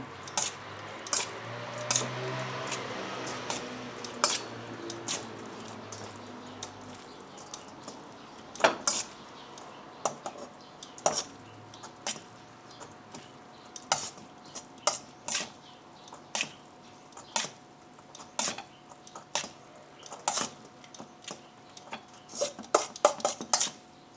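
Prawn oil being mixed with skyward chilies in a bowl, with a soft wet squishing stir at first, then a long series of sharp, fairly regular clinks of a utensil against the dish, close and clear, without talking.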